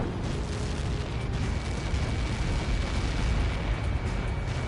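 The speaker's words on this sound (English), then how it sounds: "How many got caught in that explosion?" A massive explosion in the combat flight video game Ace Combat 7 rolls on as a loud, sustained rumbling roar with dense crackling debris, continuous for several seconds with no voices over it.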